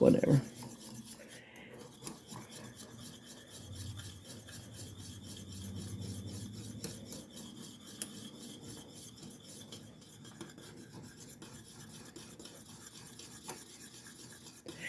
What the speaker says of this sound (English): So just get you a little whisk, big whisk